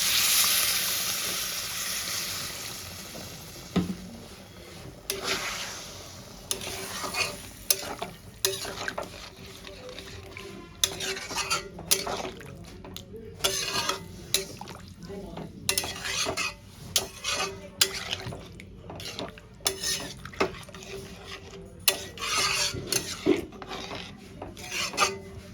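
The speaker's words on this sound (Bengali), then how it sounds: "খুব ভালো করে কষিয়ে নিচ্ছি" Fish curry masala being sautéed and stirred in a pan, a steady run of scraping, clinking spoon strokes against metal with a soft sizzle beneath, close and alone with no voices.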